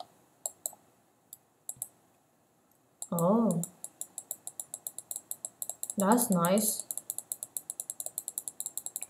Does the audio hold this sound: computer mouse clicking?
yes